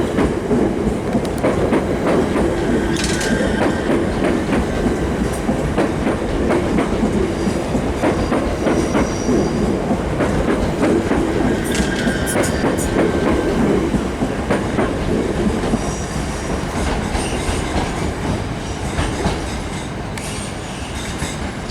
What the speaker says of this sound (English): This is just served by class 357 C2C trains from Southend and Sherbriness.